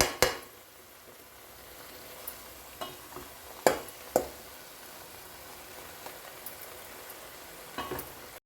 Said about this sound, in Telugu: ఈ యొక్క అల్లం వెల్లుల్లి ఆనియన్ పేస్టు ఇవి మూడు కూడా కొంచెం ఫ్రై చేసుకుంటామన్నమాట